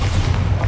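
Bombarda blast spell in Hogwarts Legacy, a brief, heavy low boom with a dense rumbling body, loud and close, with no talking.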